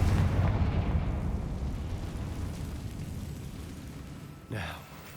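A Confringo blasting curse goes off in Hogwarts Legacy, a loud rumbling blast at the start that slowly decays into a low roar, followed near the end by a second short, sharp burst.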